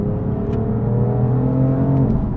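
A Verde Mantis BMW M4 blips its engine on a downshift, rising and falling revs with a smooth tonal whir, close and fairly loud with no voices.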